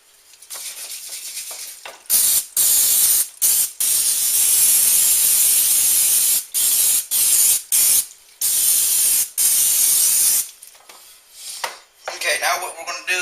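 Cooking spray greasing a 2-quart baking pan for a broccoli rice casserole, loud close hissing bursts of varying length separated by short gaps, followed by faint metallic pan clatter at the end.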